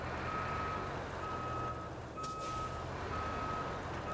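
Steady reversing beeps repeat in a regular rhythm over low engine rumble as a crane truck backs up in the RoadCraft video game, the tones clear and moderately loud, with a brief hiss partway through.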